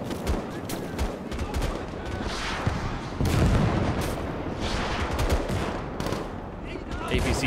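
Heavy battlefield fire in the Gates of Hell video game as U.S. Army forces and APCs assault hill fortifications: rapid machine-gun bursts, rifle shots and deep artillery booms overlap continuously, close and loud.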